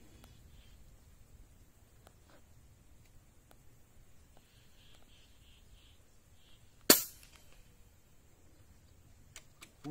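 One sharp, sudden shot from a Boito Urutu 931 air rifle cracks out in otherwise quiet surroundings, preceded by a few faint clicks and light handling noises.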